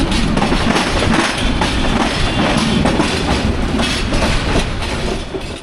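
Kishoreganj Express passenger train rolling along with a steady, loud clickety-clack of wheels over rail joints, a continuous close rumble throughout with no voices.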